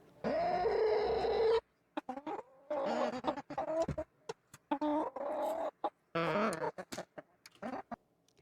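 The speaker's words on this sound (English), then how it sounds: "Okay, yeah, so it's chickens." Sampled chicken clucks from a music sample pack, a loud close burst of clucking followed by a run of short, choppy cluck fragments with gaps of silence between them.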